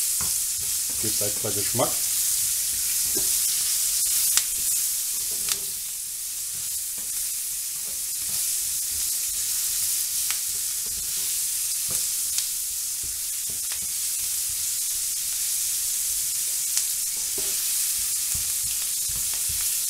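Onions with their skins left on roast in a pan as vegetables for a sauce, giving a loud, continuous sizzle throughout with occasional stirring scrapes, and a voice speaks briefly near the start.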